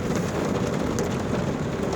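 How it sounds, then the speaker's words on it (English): Heavy rain pours outdoors during a thunderstorm, a dense, loud, steady hiss with a low rumble beneath it and no voices. "it's raining out here. It's storming."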